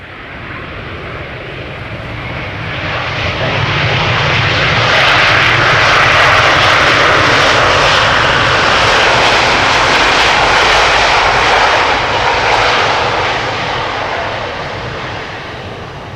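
Delta airliner landing at Amsterdam Schiphol Airport, a loud jet engine roar that swells as it approaches, peaks overhead with a broad rushing whine, then gradually fades.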